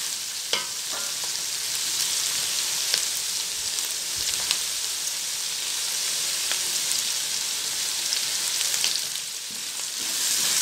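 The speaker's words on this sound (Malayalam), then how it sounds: "നമുക്ക് കുറച്ച് കറിവേപ്പില ഇട്ട് കൊടുക്കാം." Curry leaves sizzle in hot oil while a Kerala-style soya chicken roast is cooked, a dense continuous frying crackle with scattered sharp pops and stirring scrapes, close and steady, with no talking.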